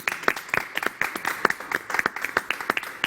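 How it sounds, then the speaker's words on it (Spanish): A television studio audience applauds the guests after a talk-show discussion on the consequences of drug use, giving steady, moderately loud clapping with uneven rhythmic peaks and no voices over it. "Un aplauso para nuestros invitados."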